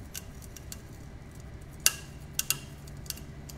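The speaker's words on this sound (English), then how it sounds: "What you're hearing right now is the failure of individual fibers in that piece of FRP." Individual fibres snapping in an FRP specimen during a tension test in a materials testing lab, a few faint scattered ticks and sharp pings over a quiet mechanical hum.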